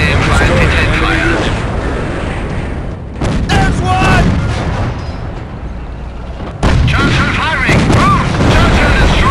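Artillery fire in Company of Heroes during a Market Garden bridge battle booms in heavy, repeated blasts with rumbling explosions, loud and close, while voices talk over the barrage.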